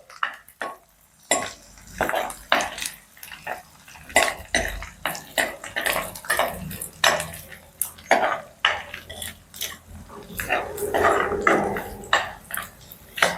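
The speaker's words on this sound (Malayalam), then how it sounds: "നല്ലോണം ഇളക്കി കൊടുക്കുക." Spoon scraping and clinking against a pot while shallots are stirred for a fish curry, a quick irregular rhythm of close metallic knocks with faint sizzling underneath.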